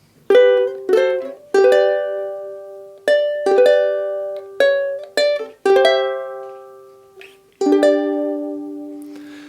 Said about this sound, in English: So as we look at the chorus, our first phrase will sound like this.